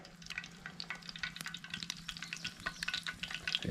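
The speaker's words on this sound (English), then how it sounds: "Alright, now we have a little sizzle." Warm oil in a pan frying shrimp at a roadside camp cook, a steady close crackling sizzle with quick popping spatters throughout, quiet overall with no talking.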